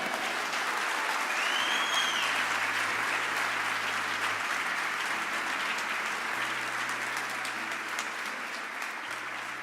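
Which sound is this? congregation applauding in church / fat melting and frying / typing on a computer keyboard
congregation applauding in church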